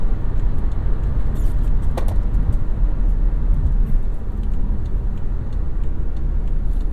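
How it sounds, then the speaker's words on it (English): Steady broadband road noise fills the cabin of a 2015 BMW X3 xDrive35i cruising on the highway at 70 mph, a constant rumble and tire roar with no talking. "you are hearing the road noise a little bit more than somebody might want."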